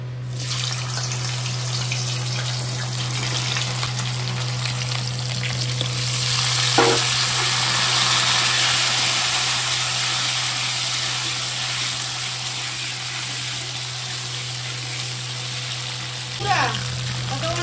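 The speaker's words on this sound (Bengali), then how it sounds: "তারপরে আলু আর এই যে তোমার কচুগুলো একটু ভেজে নেবো" Potato and taro pieces frying in oil for a Bengali catla fish curry, a steady close broadband sizzle with a constant low hum and a couple of brief stirring clinks.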